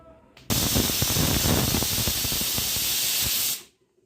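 A pressure cooker with cabbage inside vents steam through its whistle in one loud, steady hiss lasting about three seconds, then it cuts off abruptly.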